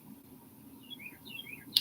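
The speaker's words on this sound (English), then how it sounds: "You hear the birdies?" Small birds chirping outdoors in the morning, a few faint high tweets scattered over a low background rumble, followed by a sharp click at the end.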